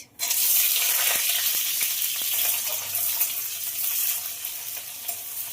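Chopped onions with a bay leaf and whole garam masala frying in hot oil for a yogurt chicken dish, a loud, steady close-up sizzle with a few faint stirring clicks and no voices.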